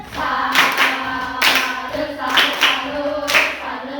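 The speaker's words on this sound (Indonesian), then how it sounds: "Bagi tepuk salut untuk kelompok Merkurius" A classroom group claps out a rhythmic tepuk salut salute routine, sharp loud claps falling in repeated patterned bursts, each burst a quick cluster of claps with short gaps between.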